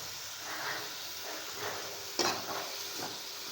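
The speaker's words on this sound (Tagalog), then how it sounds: "gigisa-gisa lang natin ang ating singkamas" Jicama (singkamas) being sautéed in a pan for vegetable lumpia, giving a steady close sizzle and hiss with stirring scrapes and a sharp utensil clack against the pan partway through, with no talking.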